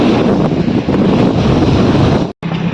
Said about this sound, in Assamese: এয়া চব সাগৰৰ কিনাৰে কিনাৰে মুকুতা বিচাৰি ফুৰিছোঁ।